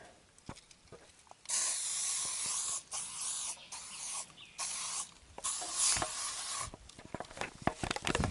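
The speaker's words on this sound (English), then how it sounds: "gotta get that bug spray." Outdoors while preparing for a deer scouting walk, bug spray is released in several hissing bursts of an aerosol can, close and moderately loud, separated by short pauses and clicks.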